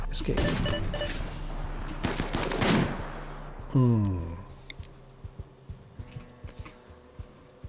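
Gunfire in a video game: fast bursts of shots, then a string of short, sharp reports under game sounds, close and moderately loud.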